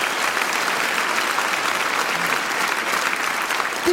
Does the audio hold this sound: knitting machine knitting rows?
no